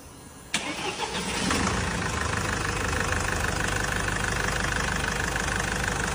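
A Changan Hunter refitted with a 646 Panorama diesel engine cranks with a sharp start at about half a second, then settles into a loud, steady, rough idle that continues nearby without any talking.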